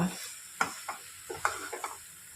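A spoon scrapes and stirs through cabbage curry in a pan with chopped coriander on top, giving a few distinct scraping strokes over a soft background sizzle.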